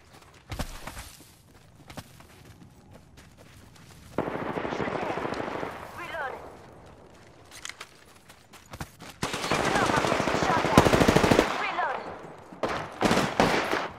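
Bursts of automatic and single-shot gunfire in the battle royale video game Apex Legends, coming in sustained volleys and short cracks with quieter gaps and footsteps between them.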